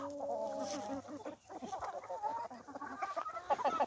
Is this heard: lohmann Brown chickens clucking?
yes